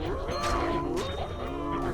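Cows lowing in the Cow Level of Diablo 2, a modded Project Diablo 2 run, with several drawn-out bovine moos overlapping steadily and loudly throughout, no talking over them.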